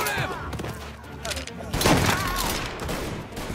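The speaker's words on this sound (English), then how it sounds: "Shoot him!" Rapid gunfire in the Mafia video game, bursts of shots layered with shouting voices and dense game noise, loud and continuous.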